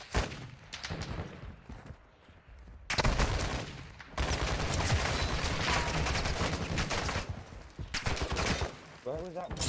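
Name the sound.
gunfire in Call of Duty DMZ video game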